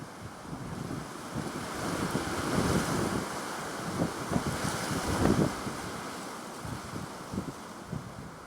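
Strong wind roars across the microphone in a steady rushing noise, rising and falling with gusts, loud and close, in a garden where it knocks apples from the trees.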